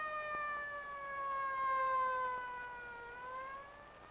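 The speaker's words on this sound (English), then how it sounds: "Look, there it is. It's the fire engine." A 1957 fire engine siren wails with a slowly falling pitch, moderately distant and steady, with no voices.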